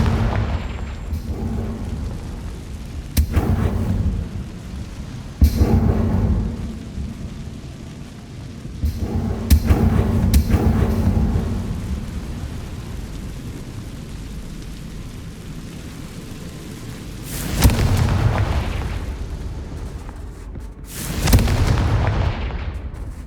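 Confringo spell explosions in Hogwarts Legacy: a string of heavy, thundering booms, some six or so, that burst out at irregular intervals and roll away into a dense rumbling background.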